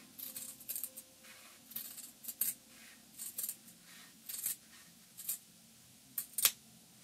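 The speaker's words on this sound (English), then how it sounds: "I'm going to do it with small scissors because these fabrics aren't very thick" Small scissors snip slits into thin corset fabric, giving a series of crisp, close clicks and short cuts in an irregular rhythm, with quiet pauses between each snip.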